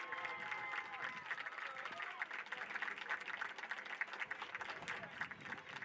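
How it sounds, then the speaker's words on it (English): A stadium crowd applauds the McAlester Buffaloes football team at a youth championship, a steady wash of clapping and crowd noise with some talk mixed in. "Let's give one big round of applause for your McAlester Buffaloes on a great season"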